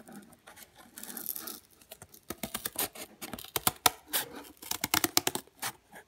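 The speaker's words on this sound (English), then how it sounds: "cut along 2 of the lines that you just drew" Scissors cut along drawn lines in paper or card for a homemade hamster maze, a close series of crisp snips and crunches in irregular bursts that grow denser, with no voices.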